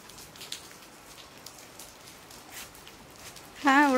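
Rain falling outside a house, a soft, steady patter with scattered louder drops at moderate distance; a voice begins speaking at the very end.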